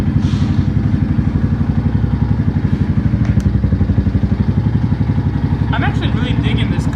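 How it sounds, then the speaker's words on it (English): A Venom Ghost 250cc motorcycle idles close by, its single-cylinder thump steady and loud throughout, with a brief clatter of metallic ticks near the end. "this is how the bike sounds"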